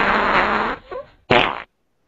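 A comedic fart sound effect called heiny hiccups: a loud, long broadband blast, a softer sputter, a short pause, then a second sharp burst before silence.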